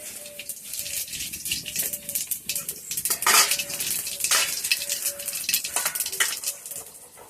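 Whole cumin seeds go into hot oil for tempering in a pan. Metal utensils clink and rattle with stirring scrapes over a light sizzle, in an uneven, close series of clatters.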